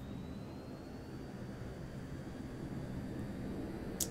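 A jet aircraft engine in a video game, a steady broadband roar with a faint rising whine held under a wash of noise, fairly distant and even throughout, ending with a short sharp burst, no talking.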